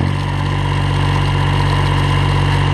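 A tractor engine running steadily at close range, a loud continuous idling rumble with no change in pace.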